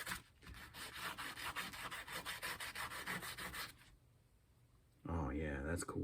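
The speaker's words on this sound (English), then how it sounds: "Probably take about 10 minutes just sanding this in." Fine-grit sandpaper rubs a guitar pick in rapid rhythmic back-and-forth strokes, close up, then stops; a person starts talking near the end.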